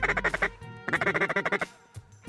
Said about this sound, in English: just a little simple feed call